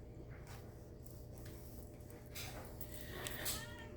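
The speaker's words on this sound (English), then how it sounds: "She's just going around meowing lightly" A cat meows softly a few times over steady low background hum, the calls light and brief.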